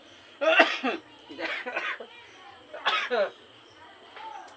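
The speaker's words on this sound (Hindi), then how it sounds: "अब भाई ऐसा नहीं कि तुमको खांसी हुआ तो खांसो नहीं" A student coughs several times in a classroom, with a few separate bursts of rough coughing and throat clearing spaced across a few seconds at moderate level.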